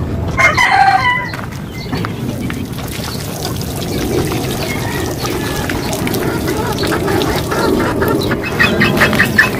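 Backyard chickens cluck close by while a rooster crows loudly at the start, followed by busy, overlapping clucking and scratchy scraping and cleaning noises around their feeding trays.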